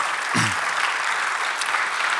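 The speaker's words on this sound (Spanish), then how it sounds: "Dale otro aplauso a nuestro Dios" Church congregation applauding during a sermon, a dense steady wash of clapping from many hands that fills the whole moment, with a brief low voice near the start.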